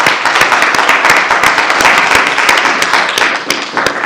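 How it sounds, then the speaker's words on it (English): A room full of guests gives a dense, sustained round of applause, loud and close, with many hands clapping steadily and almost no talking. "Let's give them a round of applause."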